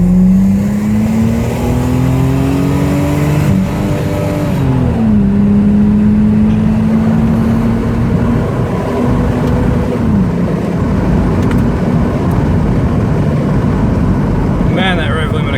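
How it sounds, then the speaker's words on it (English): Ford Falcon inline-six car accelerating hard on a highway, engine note climbing loudly through the gears up to the rev limiter, heard close from inside the car with a steady engine drone throughout. "Man, that rev limiter cuts hard."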